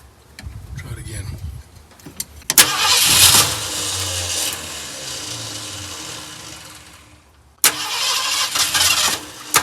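A 1972 Ford F100 engine cranks in short bursts, then catches and runs rough for several seconds, cuts out and fires again, loud and close with people talking nearby.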